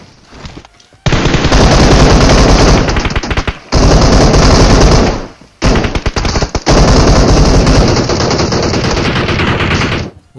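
Cover-fire gunshots in a battle royale video game: loud, dense bursts of automatic gunfire fill most of the stretch, broken by two brief pauses, with sharp rapid shots layered throughout and no talking.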